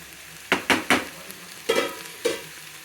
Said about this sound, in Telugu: గుడ్డు కొట్టి పోసుకున్నాం.